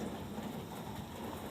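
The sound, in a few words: rain falling on a rainy day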